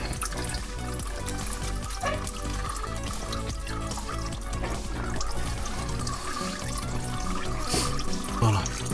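Oil pours steadily from the drained DSG7 DQ500 gearbox of an Audi RS3 8V2, a continuous close gurgling trickle splashing into a container with no break.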